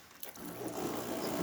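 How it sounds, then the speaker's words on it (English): Breville espresso machine dispensing hot water, a short steady whirring mechanical hum with a faint rattling edge, building slightly and running alone without talk. "Now we're going to test the hot water."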